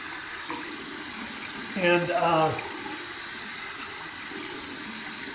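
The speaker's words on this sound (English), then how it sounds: "Just running it under water, lukewarm water." A paintbrush is rinsed under a running tap of lukewarm water, a constant hiss of flow with a brief louder gush and splash in the middle. A voice speaks quietly at the start.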